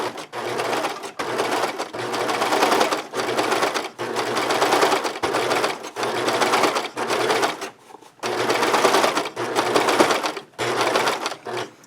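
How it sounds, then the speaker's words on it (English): A serger sewing machine stitches fabric for an enlarged scrub cap, running in loud, close bursts of rapid whirring that stop briefly between runs, with no talking. "And back to the serger."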